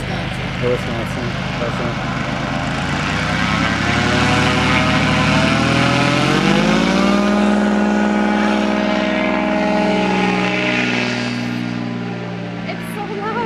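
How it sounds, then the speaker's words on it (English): An airboat's big fan engine roars loudly and continuously in Wisconsin, its pitch rising as it revs up, then holding a strong droning whine before easing off. "It's a fan boat"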